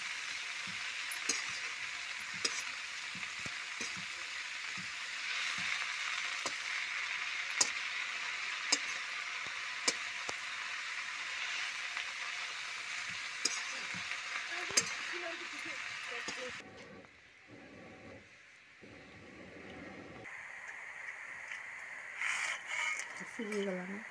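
Lentil badi dumplings frying in hot oil give a steady, close crackling sizzle dotted with small pops for about sixteen seconds, then the hiss drops away and faint muffled sounds continue.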